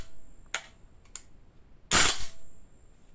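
Semi-automatic shots from an HK G28 gas blowback airsoft rifle by VFC/Umarex, a few sharp snapping cracks spaced irregularly, the last one loudest with a short gassy hiss, close to the microphone.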